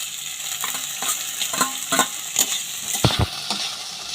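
Chopped onion, green chili and small pieces of chicken fry in a pan, with a soft steady sizzle broken by intermittent stirring clatter and a couple of sharper scrapes.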